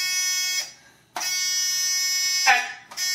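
A game show buzzer sounds during an improv Taboo game: a loud, harsh, close electronic tone that holds steady, breaks off briefly, then returns, with a brief voice near the end.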